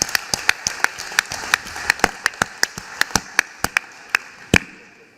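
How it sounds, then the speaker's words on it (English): A small audience at a live data-visualisation workshop clapping. Distinct, fairly sparse claps ring out in an uneven rhythm for several seconds, with no voices over them. "please give yourselves a big round of applause"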